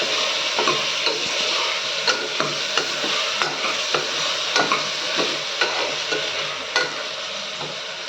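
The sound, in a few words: tomatoes being stirred and sautéed in a frying pan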